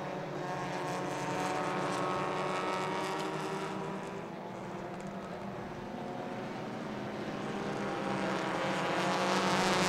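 Race cars circle the Chang International Circuit in Buriram, Thailand, on a warm-up lap during a Thailand Super Series round, their engines droning steadily from a distance and swelling slightly as they draw nearer.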